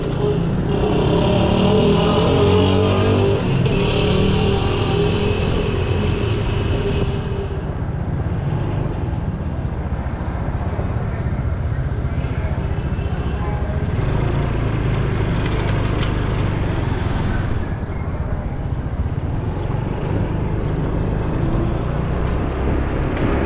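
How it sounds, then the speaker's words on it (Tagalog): A motorcycle gives off a loud, continuous clattering rattle from somewhere on the bike, a rough broadband noise that runs steadily through the whole stretch with no pauses. "titingnan natin kung ano yung nakalampag sa dito sa motor"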